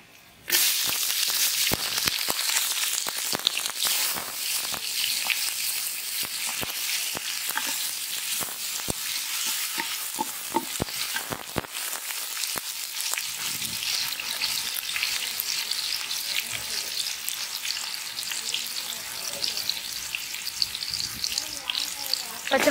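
Onion frying in hot oil with cinnamon, cloves and poppy seeds for goat intestine kulambu: a loud, continuous bright sizzle and crackle throughout, with occasional stirring clicks and no voices.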